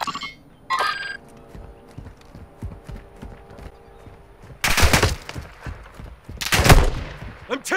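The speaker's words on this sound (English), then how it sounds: "I'm taking enemy fire" Gunfire in a Call of Duty battle royale match: two loud, close bursts of rapid shots in the second half, after quieter scattered clicks and distant game noise, with no talk over them.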